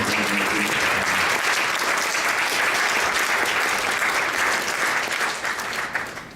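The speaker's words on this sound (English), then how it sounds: "So let's give a big round of applause." An audience at a city council State of the City address in Mount Vernon breaks into loud, dense applause, many hands clapping steadily and evenly before it begins to taper at the end.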